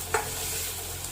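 Onions sautéing in a pan for Bombay chutney, a steady soft sizzle with one brief stir scrape near the start, fairly quiet and with no voices.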